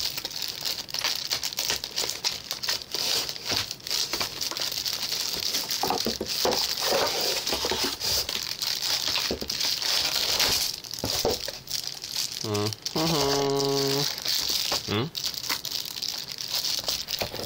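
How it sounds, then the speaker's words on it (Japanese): Paper wrapping crinkles and rustles steadily throughout as a package holding a GorillaPod camera tripod is opened, close and fairly loud, with a voice briefly speaking near the end. "なんか変な紙入ってるけど、まあ無視して開けていきましょう"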